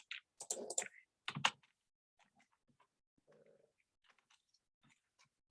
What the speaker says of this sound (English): So we can actually type in